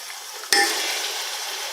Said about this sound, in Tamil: சிக்கன் சேர்த்து நல்லா ஒரு 5 நிமிஷம் நல்லா வதக்கி விடுங்கம்மா.